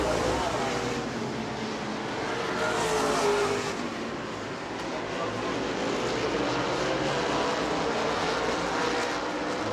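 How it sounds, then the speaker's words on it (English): Stock race cars circle the track at the New Smyrna World Series, a dense, continuous roar of many engines rising and fading as the pack passes, with a commentator talking over the noise throughout. "He's up to 7th now in that 66 car as they lap the Hank Baker number 2"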